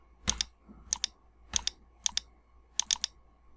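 Keystrokes on a computer keyboard while entering a password on Windows 10, sharp close clicks arriving in short bursts of two and three with brief pauses between, no talking.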